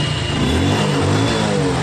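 A motorbike in neutral is started with its electric self-starter during a cold-weather starting check, then settles into a loud, steady engine run close by with no talk.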